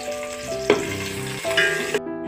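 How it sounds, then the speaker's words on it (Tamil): Onions fry in oil in the pan for Kerala nei choru, after cashews and raisins were fried in the same oil. A loud, close sizzle is broken by a few spoon scrapes and clinks and stops abruptly near the end. "அதே ஆயில்லையே வெங்காயம் போட்டு நல்லா வறுத்தெடுக்கலாம்."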